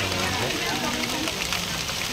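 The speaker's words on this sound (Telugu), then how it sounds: "కరీంనగర్లో భారీ వర్షం కురిసింది" Heavy rain with gusty winds pours over Karimnagar in a loud, constant broadband hiss, while a voice talks faintly over it.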